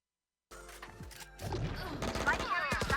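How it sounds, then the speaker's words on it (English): Rapid bursts of gunfire crackle from the game Valorant after a brief silence, growing denser and louder with overlapping shots and impacts. "I hear gunfire and I take my glance"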